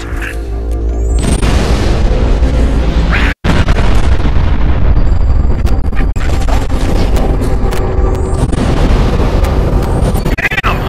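Artillery strike in Halo: Reach, a loud, continuous barrage of booming explosions and bursts rolling on for seconds, broken by one abrupt dropout, with crackling debris over a heavy low rumble.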